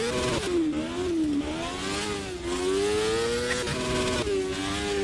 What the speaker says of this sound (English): let's unleash the crosscar